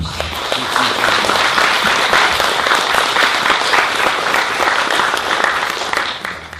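A lecture audience honoring elders claps warmly in a dense, continuous round of applause that swells and holds for several seconds before tapering at the end.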